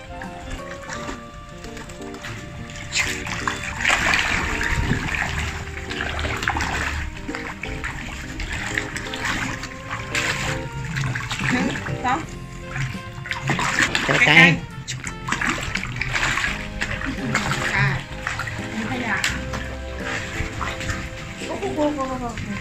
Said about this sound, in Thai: อันนี้เป็นแม่น้ำปิงนะครับวิวแม่น้ำปิงวันนี้น้ำขึ้นด้วย